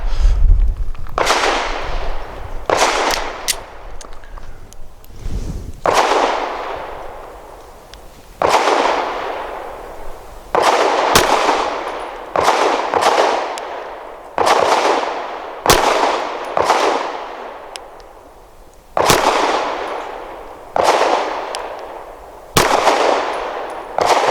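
Loud pistol shots from a Girsan MC28SA firing Nosler 115 grain jacketed hollow points at an outdoor range, about fourteen sharp reports in uneven bursts, some closely paired, each ringing briefly before the next.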